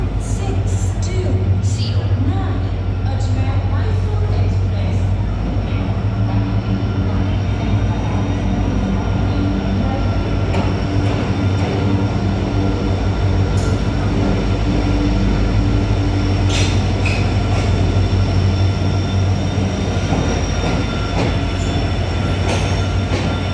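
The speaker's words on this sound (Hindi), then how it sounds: "यह है Vande Bharat train Ajmer to new Delhi" A Vande Bharat train running from Ajmer to New Delhi makes a loud, continuous rumble with rail and wheel noise throughout, heard close up from the station with a person talking over it.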